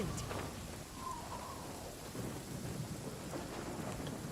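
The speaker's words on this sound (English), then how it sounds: "It doesn't stop raining here." Steady rain falls with rumbling thunder in the Genshin Impact game world, a continuous dense wash of rainfall with deep low rolls underneath and no voices.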